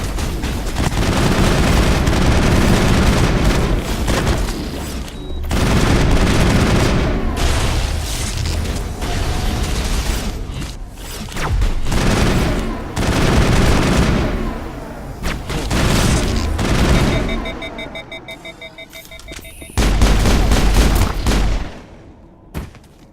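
Assault rifle gunfire in the video game Mass Effect, loud dense bursts of shots and booms rattling almost continuously, with short pauses between volleys and a final heavy blast near the end.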